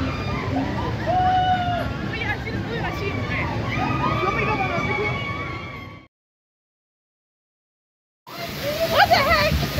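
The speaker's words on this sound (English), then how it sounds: "It's not the drop, it's that sinking waterfall." Water pours and splashes around a Splash Mountain log flume at its sinking waterfall on the ride's closing night, a steady rush under excited rider chatter that cuts out briefly before the splashing and voices return.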